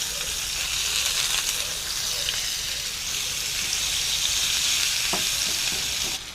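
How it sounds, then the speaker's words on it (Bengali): Onions sizzle and fry in hot oil left after frying fish for an amliya fish masala curry, a steady close hiss with occasional stirring clicks throughout. "ওই তেলে পেঁয়াজগুলো ভেজে নেব।"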